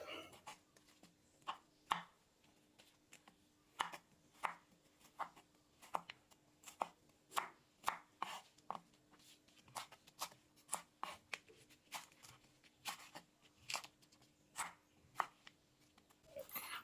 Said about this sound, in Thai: หั่นคะน้าอีกหนึ่งต้นครับ